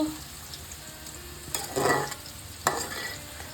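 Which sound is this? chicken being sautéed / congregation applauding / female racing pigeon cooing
chicken being sautéed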